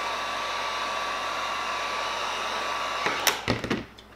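A heat gun warms vinyl accessory graphics on a Traxxas Slash RC bash body, blowing a steady close whoosh that continues throughout, with a few handling knocks and rustles near the end.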